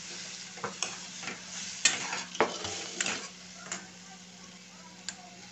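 A spoon stirs mashed eggplant for bharit in a hot pan, giving irregular scraping knocks and soft sizzling, close and moderately loud, with no talking.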